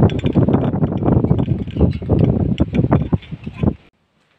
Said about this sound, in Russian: Вот слышите, как прям порывами ветер.